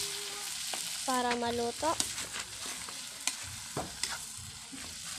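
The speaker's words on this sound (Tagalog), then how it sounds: "Haluin lang po siya ng haluin." Clam (kabibe) adobo is stirred in a sizzling pan, a spoon scraping in short strokes over steady frying crackle while someone speaks briefly near the start.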